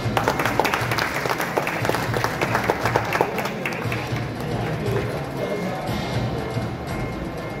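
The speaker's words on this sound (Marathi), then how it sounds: "जोरदार टाळ्या वाजवू आपण सगळेजण" An audience at the inauguration of the All India Bhajan Sammelan in Mumbai, 2025, breaks into dense, rapid applause. The clapping thins after a few seconds into a crowd murmur with voices.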